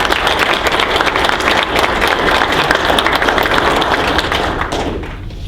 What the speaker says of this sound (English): So a round of applause for the small business circle.